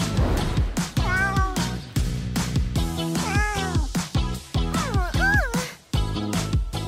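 Cats meowing repeatedly, a series of clear, close, tonal meows with rising and falling pitch over a busy, rhythmic musical backing, no talking.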